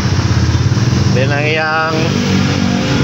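Easyride TVX150 motorcycle engine revving through its exhaust, a close mid-pitched run that rises to a brief rev and settles back, with someone speaking over it.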